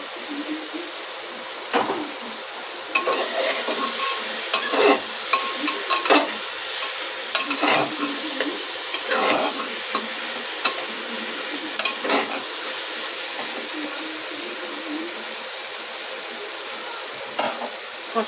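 Soybean chunks being stir-fried in a pan, a steady sizzle with repeated scraping and clattering stirs at irregular intervals, close and continuous with no talk.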